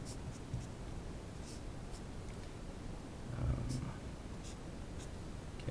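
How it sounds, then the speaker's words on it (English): A pen writes out a matrix determinant with faint, scratchy strokes in short bursts over a steady hiss, quiet and close, with no talking. "So let's just write that out real quick."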